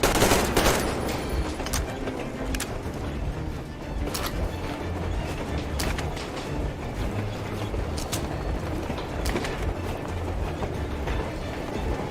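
Dense gunfire from the Metro Exodus video game: sharp shots and bursts cracking repeatedly over a continuous loud rumble of battle noise, steady throughout with no clear pauses.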